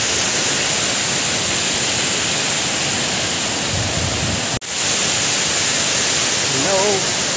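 Abungan Falls in Dingalan, Aurora roars as a loud, steady wash of falling water close by, with a brief dropout midway and faint voices near the end.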